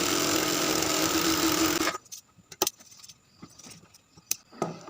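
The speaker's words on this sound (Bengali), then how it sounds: "এটাকে এই সাইড দিয়ে চড়া করে একটা সেলাই দেবো" A sewing machine stitches a shirt collar band, running steadily for about two seconds as a loud continuous whir, then stopping; afterwards only scattered clicks and handling taps follow.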